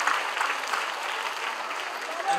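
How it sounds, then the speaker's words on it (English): An audience at a school felicitation event applauds students, a steady wash of many hands clapping at moderate distance, continuous and even throughout. "So big round of applause for all you guys."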